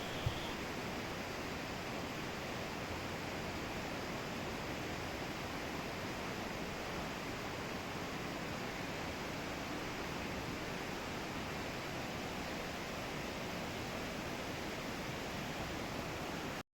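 A fast-flowing, ice-cold mountain stream rushes at its source, giving a steady, broad close-up roar of churning water with no talk over it.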